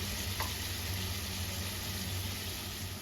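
Soybean curry sautéing in a pan with ground roasted spices, a steady close sizzle that holds evenly throughout with no talk.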